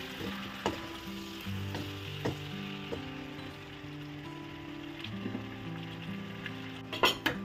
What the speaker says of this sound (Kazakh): турап алған помидорларымызды салып та араластырып қуырамыз 10 минуттай